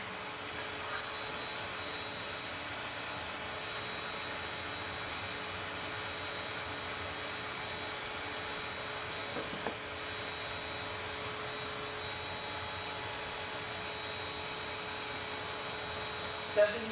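A VacuMaid, Bissell or InterVac vacuum cleaner running steadily with a loud, even whine and motor hum, close by and unbroken apart from one or two small clicks.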